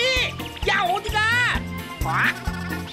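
Cartoon goose in a Korean children's fairy tale about the goose that lays golden eggs honks in repeated bursts, loud and close, mixed with children's voices and a bright music bed.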